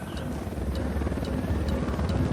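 A helicopter in the video game Ghost Recon Wildlands approaches with a loud, steady rotor thump and engine buzz, while faint sharp ticks recur at regular intervals over the drone.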